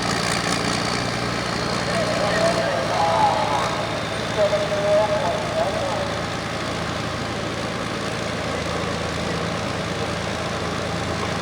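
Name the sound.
John Deere 4430 tractor engine at a tractor pull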